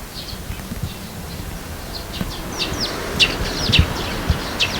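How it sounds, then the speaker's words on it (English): Birds chirp and tweet in short bursts, scattered calls close by over a steady outdoor hiss. "then you've got all the birds chirping and stuff"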